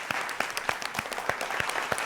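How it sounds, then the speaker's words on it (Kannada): Studio audience applauding on a live singing reality show, a dense burst of clapping that stays steady for a couple of seconds, close and full. "ಬರಲಿ ಜೋರಾದ ಚಪ್ಪಾಳೆ."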